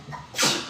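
A single short sneeze from a person indoors, a brief breathy intake followed by a sharp, loud burst that fades quickly, heard alone without talk.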